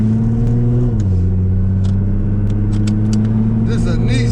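A Nissan GT-R engine, a loud close low rumble that rises and steps up in pitch about a second in, then holds steady, with people talking over it.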